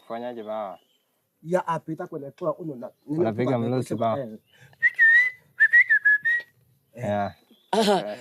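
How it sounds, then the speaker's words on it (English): Several clear whistled notes ring out, rising and sliding tones in short bursts, mixed with stretches of people talking nearby. "So they communicate from distances by whistling."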